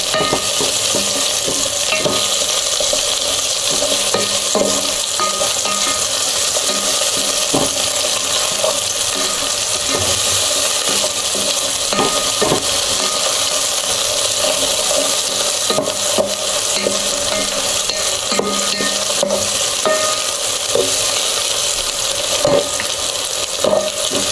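Onion sizzling steadily in a frying pan, browning slightly before sardines go in, with repeated scrapes and knocks of a spoon stirring through a constant, close hiss and no talking.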